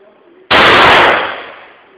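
.38 caliber revolver fired once: a single loud, close blast that cuts in abruptly and rings out over about a second before fading.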